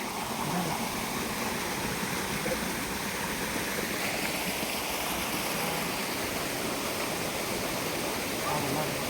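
Steady broadband rush of flowing water during monsoon rain, constant and fairly loud throughout, with no breaks or distinct splashes.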